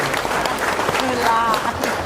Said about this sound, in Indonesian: Tepuk tangan heula.